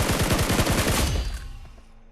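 A rapid burst of automatic gunfire in PUBG Mobile, about a dozen quick, evenly spaced shots, loud and close, then the sound tails off into a fading echo.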